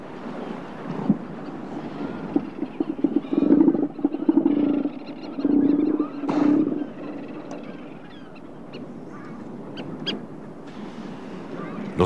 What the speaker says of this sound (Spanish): Los grandes elefantes marinos son algunos de los habitantes más típicos en las costas de la Shetland del Sur